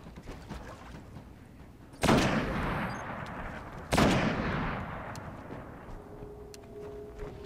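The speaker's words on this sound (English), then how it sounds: "What's shooting me from the side?" Gunfire in the Destiny video game: two sharp, loud shots crack out a couple of seconds apart, each trailing into a long rumbling decay, with faint scattered pops between them.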